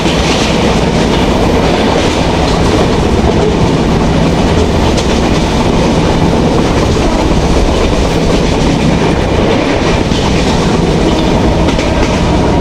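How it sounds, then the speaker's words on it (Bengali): Benapole Express passenger train running on rails in Bangladesh, a loud, continuous rumble with steady clickety-clack of wheels over rail joints, heard from inside the carriage without any talk. "বিকালের ট্রেন জার্নিটা তো কত সুন্দর"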